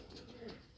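Ornamental pigeons kept for sale give a brief, soft, low coo close by, with faint background noise around it.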